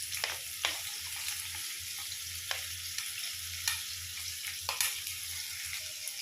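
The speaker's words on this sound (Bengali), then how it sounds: "গাজরটা আমি একটু নাড়াচাড়া করে নেব" Carrots fry in hot oil for mixed Hakka noodles, a soft steady sizzle broken by regular sharp scrapes and clicks of a spatula stirring the pan, near and unvoiced.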